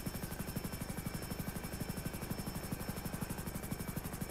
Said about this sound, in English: I'm in a chopper